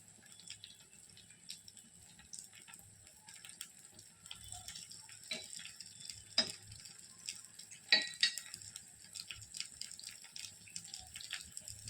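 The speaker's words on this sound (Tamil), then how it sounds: "நல்லா எண்ணெய் கொதிச்சு வேக ஆரம்பிச்சிருச்சு" Paniyaram frying in hot oil in a pan, a soft continuous sizzle with scattered crackles and pops, faint and close, with a few sharper clicks along the way.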